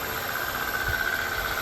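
A 2001 Chevy Prizm's small 4-cylinder engine idles steadily in a tight engine bay, a smooth continuous drone with a faint whine running through it, close and alone without talk.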